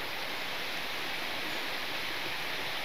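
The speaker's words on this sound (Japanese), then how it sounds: "気持ちのいい川のせせらぎ聞こえますかね" A murmuring mountain river near a shrine, a steady soft broadband rush of flowing water, faint and continuous with no voices.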